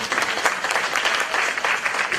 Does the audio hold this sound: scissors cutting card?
no